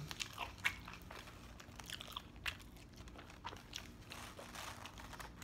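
Close, crisp bites into a big, crunchy pita, several sharp crunches followed by moist chewing and faint crinkling, heard alone without talk.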